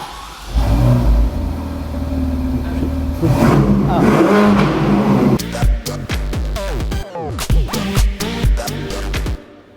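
A luxury supercar engine is pushed button-started, then revved hard in repeated rising bursts, loud and close, with people talking over the roar.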